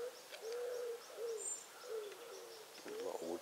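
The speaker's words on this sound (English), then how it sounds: "Pigeons." Pigeons cooing at dawn in dense woodland, a series of soft low hooting calls repeating through the clip at moderate distance, with other faint bird sounds and a brief rustle near the end.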